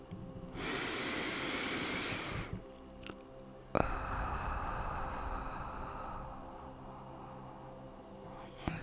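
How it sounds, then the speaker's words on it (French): During a yoga flow, one person takes slow, deep breaths close to the mic: a long, airy inhale, a brief pause, then a drawn-out hissing exhale that fades gradually. "fais quelques grandes respirations"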